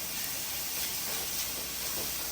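Mushrooms hitting a hot pan for pasta primavera, a steady, even sizzle and hiss of cooking that holds at a constant level throughout.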